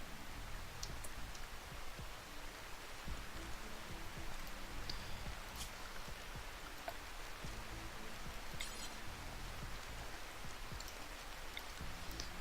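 Steady, faint rain falls in the game Rimworld, a continuous soft patter with scattered light drips and no voices.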